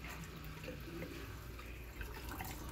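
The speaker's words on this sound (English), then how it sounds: "I'm just gonna pour everything out right now." Vinegar water pours out of a hot water pot into a sink as a faint, continuous splashing trickle.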